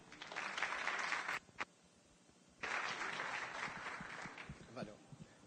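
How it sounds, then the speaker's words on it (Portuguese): Audience applause at a cybersecurity conference welcoming Dr. Alexandre Matos to the stage: a steady burst of dense clapping, a brief pause, then a second sustained round. "Recebam com aplausos, por favor,"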